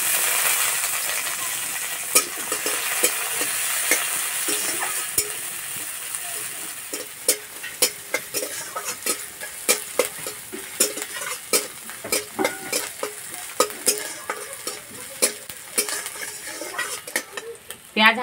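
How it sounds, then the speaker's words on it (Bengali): Chopped onion, crushed garlic, chopped green chilies and black cumin seeds sizzle in hot oil for a cabbage bhorta, with a steady frying hiss and frequent sharp clicks and scrapes of a spatula stirring against the pan, growing busier toward the end. "পেঁয়াজ হালকা করে ভেজে নিয়েছি।"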